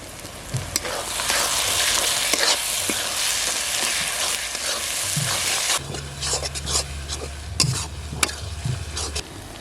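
Ginger, garlic and cumin paste sizzles steadily in a pan for a village-style mutton curry, with continuous frying hiss, scattered spatula scrapes and a low hum joining partway through.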